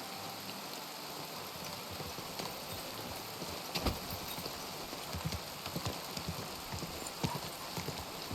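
Horse hooves clop at an uneven walking pace over a steady hiss like rain, in the video game Kingdom Come: Deliverance 2.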